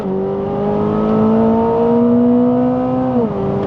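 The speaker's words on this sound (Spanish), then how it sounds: "¡cómo acelera este carro!" A 2025 Chevrolet Corvette ZR1 with its LT7 5.5-liter twin-turbo V8 pulls hard out of a tight corner at Circuit of the Americas, a loud, steady rising engine tone held for several seconds before a brief shift dip near the end.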